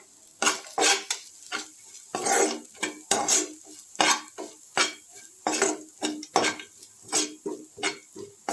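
Grated coconut with cinnamon and fennel roasts in a pan with a soft sizzle, broken by repeated close scraping and stirring strokes of a metal spoon against the pan in a quick, uneven rhythm, with no voices.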